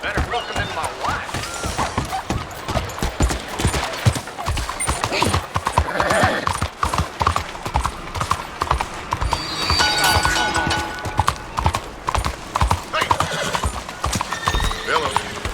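Horse hooves clip-clop steadily and close by in the Red Dead Redemption 2 video game, with a horse neighing now and then over a busy ambient bed, while voices talk through much of the ride.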